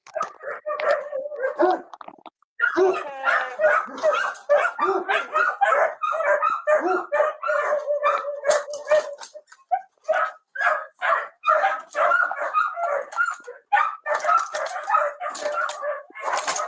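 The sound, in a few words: big dog barking in bodycam video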